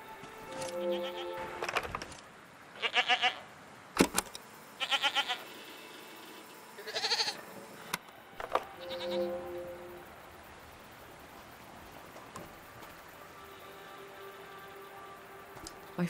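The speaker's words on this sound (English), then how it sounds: "What are these strange goat-like creatures?" Goat-like creatures bleat in a video game, several separate calls spread over the span against a quiet hum. Sparse soft ticks sit between them, and no one talks.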